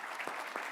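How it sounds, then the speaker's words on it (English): An audience at a tech talk on AppDynamics best practices claps briefly for a speaker. It is a faint, short burst of scattered clapping with a couple of sharper claps. "let's give one last round of applause for Thomas."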